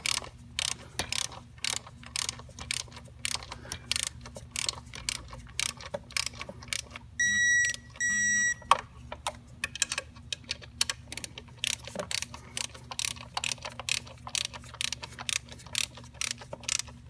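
Rapid ratcheting clicks from a torque wrench tightening bolts on a coolant water outlet of an Ecotec engine, coming in repeated bursts of close, sharp ticks with brief pauses between strokes.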